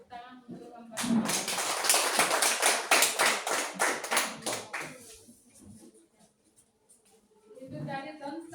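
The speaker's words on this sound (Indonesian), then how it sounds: "Mari kita beri tepuk tangan untuk membantu." A small group claps its hands in a quick, close burst for about four seconds in a classroom, the clapping then tapering off, with a teacher speaking softly before and after.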